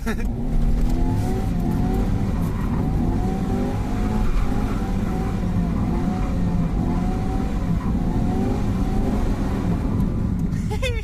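A car engine revs hard during skids, a loud, continuous roar with rising and falling pitch and some tire noise, while people talk over it.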